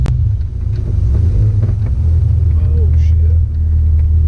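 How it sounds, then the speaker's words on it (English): A Toyota AE86 with newly installed coilovers drives around the block, its engine rumbling loud and close with steady road noise, as a man briefly exclaims over it. "So now I'm just gonna get in the car and then drive it around the block"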